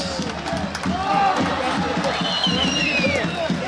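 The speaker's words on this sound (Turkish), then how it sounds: "Alkış, alkış, alkış." A crowd at an oil wrestling event in Domaniç roars and cheers in a dense, continuous wash of voices and scattered clapping, with shouting rising above the din.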